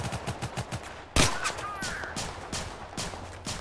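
Rapid automatic gunfire in the video game Total Conflict: Resistance, with close, loud bursts of repeated shots, a sharp heavier blast near the middle, then more steady volleys.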